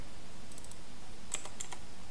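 A few light, quick keystrokes on a computer keyboard, soft and sparse clicks in two small bursts over a quiet room hum, with no talking.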